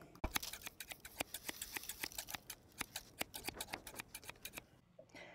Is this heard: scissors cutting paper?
yes